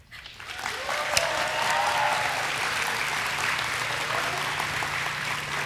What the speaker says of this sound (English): let's give a welcoming cheer for everyone who has made it here now